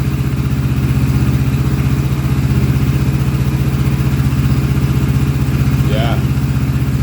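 Motorcycle engine idling steadily while warming up, a close, loud, even low throb throughout, with a brief voice near the end.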